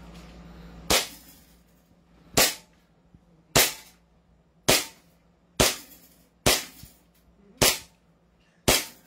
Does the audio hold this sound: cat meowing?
no